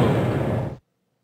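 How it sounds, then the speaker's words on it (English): A fireball spell bursts a slime pool in the video game Exile III, giving one loud, dense, noisy splattering blast that holds for under a second, then cuts off abruptly into silence. "With a green spray and intensely satisfying splattering noise, the slime pool flies apart."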